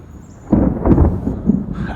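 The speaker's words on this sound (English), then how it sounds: "There's thunder, so it's gonna be storming here pretty soon." Thunder rumbling as a storm approaches over a summer food forest garden, a low rolling roar rising suddenly and swelling in a couple of heavy pulses before easing off, fairly close and alone.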